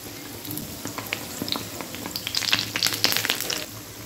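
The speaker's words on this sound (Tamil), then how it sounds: "இப்போ அப்பக்காரில் எண்ணெய் விட்டுருக்கேன், காயறது" Appam batter frying in hot oil in an appam pan gives a steady sizzle with crackling pops that grow busier toward the end, close up and with no talk.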